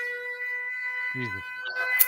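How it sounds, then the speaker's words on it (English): A distant air raid siren holds a steady, sustained wail while a voice speaks briefly over it. "that's the siren"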